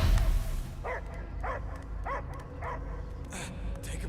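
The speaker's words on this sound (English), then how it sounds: "I hear only barking" Dog barking in the Marvel's Guardians of the Galaxy video game: five or six evenly spaced barks over a low game soundscape, with a whimpering tail near the end.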